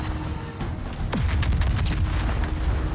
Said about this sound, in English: Okay, here come the torpedoes.